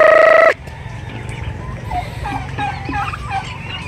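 Turkeys over four months old, kept as breeders in a pen, call out in a loud opening gobble-like burst, then a busy mix of clucks and chirps from several birds.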